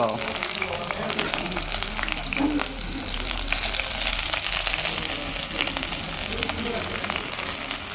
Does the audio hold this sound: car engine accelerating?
no